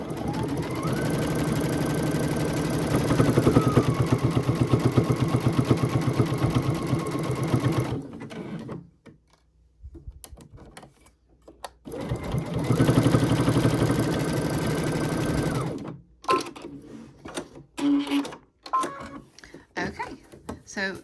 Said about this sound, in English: it's going to do our little zigzag stitch just to tack this down